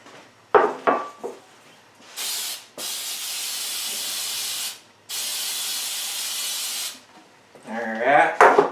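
Cooking spray hissing over baking pans to keep batter from sticking, in two long steady bursts of several seconds each, close and fairly loud, with short knocks of handling between and a bit of talk near the end.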